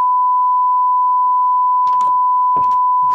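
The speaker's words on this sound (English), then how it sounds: "I'm just gonna make a long beep here to signify swearing" A long, steady censor beep, a pure tone, runs unbroken through the whole stretch over a Minecraft Superflat session, with brief bursts of game sound and voice poking through near the end.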